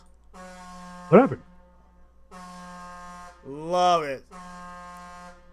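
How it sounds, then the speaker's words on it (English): A fire alarm blares in the background in long, harsh, buzzing blasts, three separate bursts with gaps between them, while a person briefly exclaims and talks. "if you heard that fire alarm in the background"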